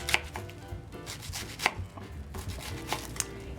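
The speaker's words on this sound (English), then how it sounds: "now I'm slicing the white cabbage, and I remove the stem of the cabbage" A knife slices through white cabbage on a cutting board, a handful of crisp, spaced chops with faint crunchy rustle between them, close and alone.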